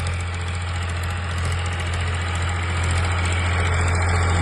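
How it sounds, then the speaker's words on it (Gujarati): A tractor engine idles steadily nearby at a farm field before castor sowing, a low, constant rumble with a faint knocking throb and no voices. "તમે જોઈ શકો છો આ ટ્રેક્ટર પણ આવી ગયું છે"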